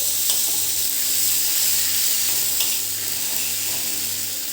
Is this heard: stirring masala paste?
yes